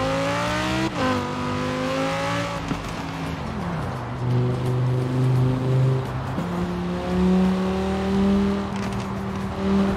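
Audi R8 engine in Forza Horizon 4 revving loud and close, climbing through gears with sharp shifts and a deep drop in pitch mid-run, steady high-volume drone with rising and falling revs and no talk.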